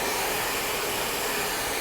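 A handheld blow dryer runs steadily while drying hair, a loud continuous airy whir with an even tone and no voices.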